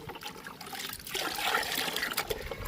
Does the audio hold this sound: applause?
no